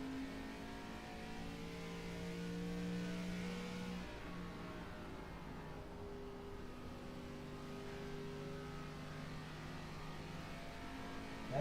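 A race car engine in the iRacing sim game drones steadily, rising into a rev early on and then holding a constant mid-pitched hum, alone without talk.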